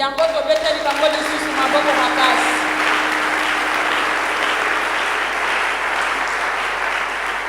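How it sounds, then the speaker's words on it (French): A church congregation at a communal thanksgiving service breaks into sustained, dense applause that fills the room steadily, with a voice briefly audible at the start. "nous allons encore les acclamer très fort"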